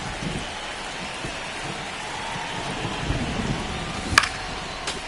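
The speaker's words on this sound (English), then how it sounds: "It feels like we might be headed towards a rain delay if the weather doesn't ease up, Chris." Rain and thunder in the MLB The Show 25 baseball video game, a steady downpour hiss with low rumbles throughout and a sharp crack of thunder near the end, with no talk.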